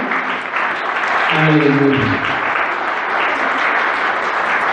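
Applause fills a church service, a steady, loud wash of clapping that carries on throughout, while a voice calls out briefly over it.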